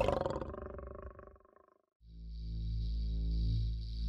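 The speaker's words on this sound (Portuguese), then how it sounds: "As hienas começam a tremer quando ouvem um rugido desse grande felino." A lion roars once in a deep, rumbling burst that fades out, followed after a brief silence by a low sustained drone with a faint high hum, heard alone without talk.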